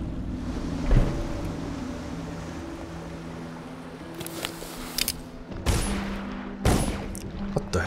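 Gunfire in the video game Dishonored crackles in several sharp bursts, rising in the second half over a low windy ambient hum, with no talk.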